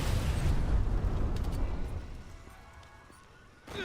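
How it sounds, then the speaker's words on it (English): Loud rumbling blasts from explosions in the video game Dead Rising 4, a dense broadband roar that swells early, slowly fades, then a fresh burst hits near the end. "There's explosions everywhere."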